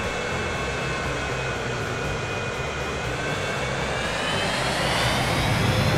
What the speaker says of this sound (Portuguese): Vamos ver a decolagem do primeiro avião saindo de Manaus